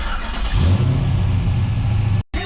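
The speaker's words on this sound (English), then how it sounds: "Gonna start it, let it get fully warmed up" An LS-swapped Impala engine with a Holley Terminator X setup fires and revs hard, a loud close rumble that briefly cuts out near the end before picking back up.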